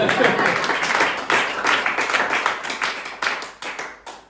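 An audience claps steadily, a dense wash of applause from many hands that swells and fades in waves, with voices faintly mixed in.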